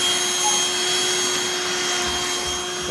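A Black+Decker Dustbuster cordless handheld vacuum runs in a steady, loud, continuous motor whine with a constant pitch, alone with no talking, over the full stretch.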